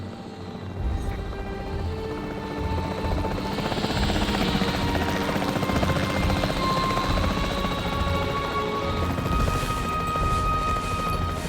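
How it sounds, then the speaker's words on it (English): Capture team helicopter in the video game Jurassic World Evolution 3, a steady loud rotor drone with engine whine that runs unbroken through the whole stretch, with faint bangs in the mix and no talk. "The priority needs to be tranquilizing it with the capture team chopper."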